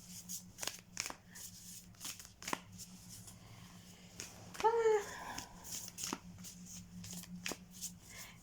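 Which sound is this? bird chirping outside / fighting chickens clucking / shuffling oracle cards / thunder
shuffling oracle cards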